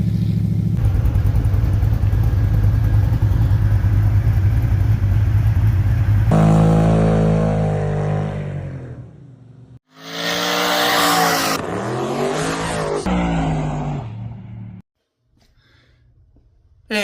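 LS-swapped station wagon on its first drive, a loud, steady engine drone that climbs into hard revving bursts, drops off briefly, then roars again before fading to a quiet idle.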